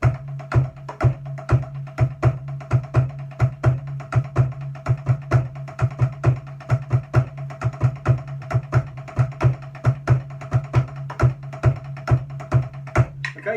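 Snare drum sticking pattern of paradiddles mixed with double, triple and single strokes, played up to tempo as a steady, fast, evenly spaced stream of close, crisp hits with accents, alone without any talking.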